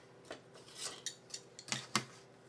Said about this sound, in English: let me get my utility knife and we will cut out